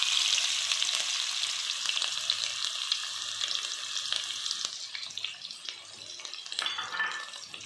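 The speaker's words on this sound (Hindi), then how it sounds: "ये जो प्याज 2 अदद चॉप किया हुआ था ये इसमें डाल दूंगी।" Chopped onions fry in a pan for white chicken korma, a dense sizzle up close that eases and turns patchier partway through, with occasional stirring scrapes and no talking.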